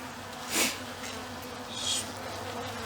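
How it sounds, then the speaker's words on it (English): A steady, low honeybee drone hums throughout from a winter-covered hive, with a couple of brief brighter buzzes from bees passing close to the microphone. "You can see them in there, keeping warm."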